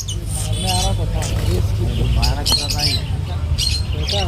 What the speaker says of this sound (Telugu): ఈ పిట్టలైతే బోన్లోనే కొట్టుకుంటున్నాయి చూడండి.